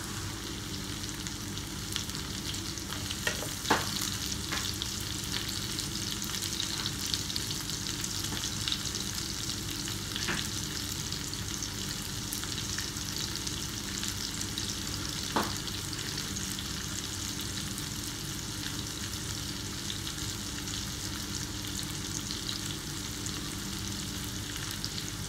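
Onions sautéing in a pan for a Filipino pork dish, a steady close sizzle running through the whole stretch with a few sharp clinks of a utensil against the pan early on.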